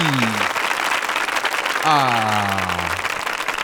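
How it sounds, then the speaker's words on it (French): A show audience claps steadily in a thick, continuous wash while a couple of voices talk over the applause. "il faut applaudir ce t-shirt"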